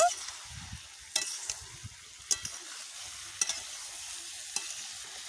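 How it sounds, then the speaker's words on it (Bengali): Chopped gera is stir-fried in oil with cooked-down spices, a faint continuous sizzle broken by sharp scrapes of a spatula every second or so, close and quiet. "এবারে কেটে রাখা গেরাগুলো দিয়ে দেব আর খুব ভালোভাবে মিশিয়ে নেব"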